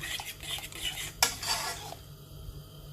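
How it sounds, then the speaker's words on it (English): A spoon stirs a cornmeal and coconut milk mixture in a pot for Jamaican porridge, making soft scraping and swishing strokes with a sharp metallic clink midway, close and fairly quiet. "we're literally going to stir"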